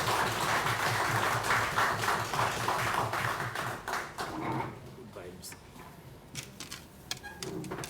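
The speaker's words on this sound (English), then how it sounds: "Let us give him another round of applause, please." Dense, steady applause from an audience at a launch event for a Kalinago development fund, loud and continuous for several seconds before thinning out toward the end.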